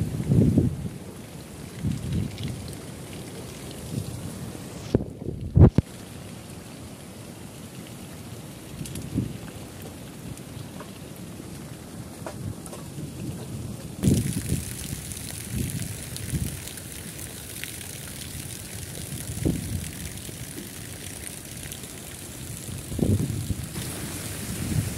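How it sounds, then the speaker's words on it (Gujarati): Heavy, continuous rain falls in a village with gusts of wind, a steady broadband wash with a few louder gusty surges and brief drops in intensity, no talk. "આટલો વરસાદ છે અને સતત ચાલુ જ છે એમ તો."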